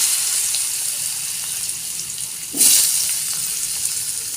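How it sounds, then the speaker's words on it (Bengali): Cut potatoes drop into hot oil left over from frying paneer. A faint steady hiss suddenly swells into a louder sizzling burst midway, then settles back to a continuous low fizz. "এই তেলেই আমরা কেটে রাখা আলুগুলো দিয়ে দেব।"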